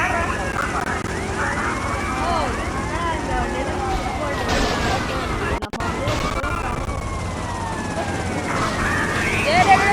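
Police sirens wail in the video game GTA Vice City, rising and falling sweeps repeating steadily and loud across the scene, with someone talking over them.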